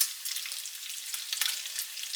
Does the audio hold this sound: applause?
no